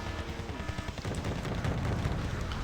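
An M1A1 tank is destroyed by an airstrike in the video game Wargame Red Dragon, set amid dense, continuous battle noise of rapid gunfire and booming blasts that grow fuller and louder after the first second.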